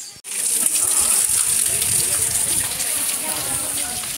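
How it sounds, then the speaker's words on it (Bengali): A waterfall on Susunia hill in Bankura pours into a pond below, giving a steady, loud, broadband rush of water that continues without a break through the whole stretch. "ওইখানে পুকুরটাতে যে মিশছে ঝর্ণার জলটা"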